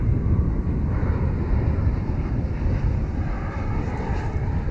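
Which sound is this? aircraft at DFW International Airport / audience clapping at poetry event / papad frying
aircraft at DFW International Airport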